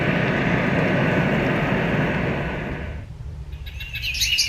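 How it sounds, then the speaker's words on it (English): Recorded bird chirps and tweets from a white-noise sound machine, starting as a dense steady wash that gives way after about three seconds to brighter, thinner chirping at moderate volume. "And you've got birds."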